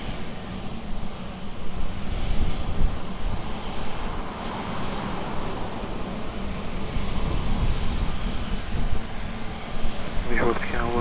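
An airplane on approach to Lisbon Airport runway 20 makes a steady, loud engine roar throughout, while radio voices talk over it.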